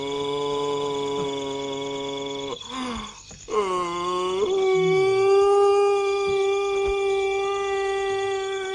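A person in a 1970 Thai comedy film imitates a dog's howl, a long wavering tonal wail that rises and bends over several seconds, loud and close over a steady background tone.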